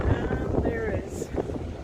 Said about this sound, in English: There's a bit of wind here, which feels really nice because it's a hot day.